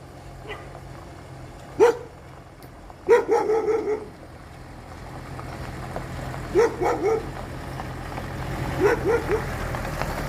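A dog barks in a rural Thai village, in short bursts of two to four sharp yips spread across the recording, fairly close, over a low steady engine idle in the background.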